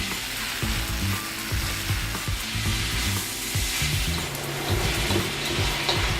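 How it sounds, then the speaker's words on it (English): Onions sizzle and caramelize in a pan, giving a soft steady frying hiss with faint clicking stirring noises underneath, close up and without talk. "And our onions are caramelizing very nicely."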